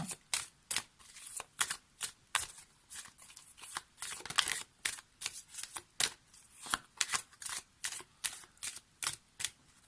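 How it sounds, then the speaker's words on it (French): An oracle deck of cards being shuffled by hand: a quick, rhythmic series of crisp riffling bursts, close and fairly quiet, with brief pauses between them. "on va prendre une carte issue de mon oracle Message des anges."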